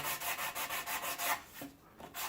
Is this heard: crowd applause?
no